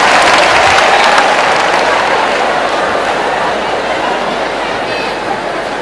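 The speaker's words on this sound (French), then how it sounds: "Applaudissez pour la famille DJ" Audience applauding for the DJ family, a loud, dense roar of clapping from a large crowd with some chatter underneath, easing gradually over several seconds.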